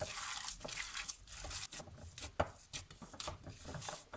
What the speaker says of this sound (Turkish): Evet köftemi güzelce yoğurdum.